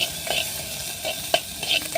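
Curry leaves and seeds frying in a pan, a steady close sizzle broken by a few soft stirring scrapes and small crackles, with no voices.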